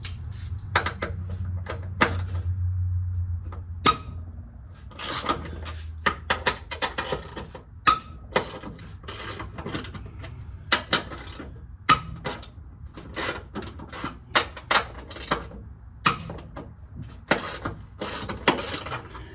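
Wrench cracking loose the top bolts of the coilovers on a Mazda RX7, a run of sharp metallic clicks and ratcheting knocks over a low background rumble, close and fairly loud, with no voices.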